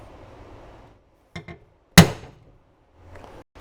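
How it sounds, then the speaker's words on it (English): A single sharp hammer strike drives a punch into car sheet metal while marking a drill pilot hole, a loud ringing metallic hit preceded by a couple of lighter taps, amid otherwise quiet surroundings. "Use a punch to start a pilot for the drill."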